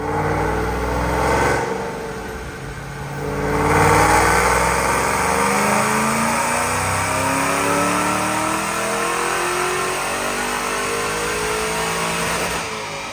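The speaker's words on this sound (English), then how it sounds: "Check out this dyno pull." A supercharged 2007 Shelby GT Mustang with long tube headers and a manual transmission roars steadily on a dyno, its engine revving hard and loud in a sustained pull that swells and holds, with no voices.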